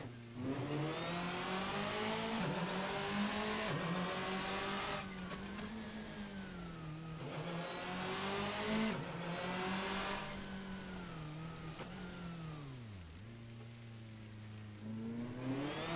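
A modded car in the racing game Assetto Corsa, its engine droning steadily and rising and falling in pitch through gear changes and throttle shifts, with faint tire noise under it.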